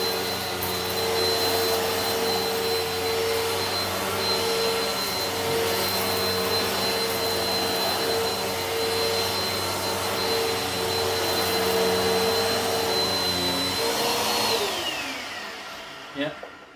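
A Bissell Powerforce Helix vacuum cleaner runs on medium pile carpet with a loud, steady, close whine and roar, then winds down and stops near the end.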